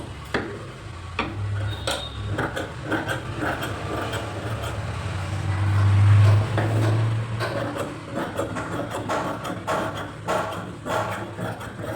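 Scissors snip through blouse lining cloth on a tailoring table, giving repeated short crisp cuts with rubbing and handling of fabric, plus a few low thumps, close and fairly clear.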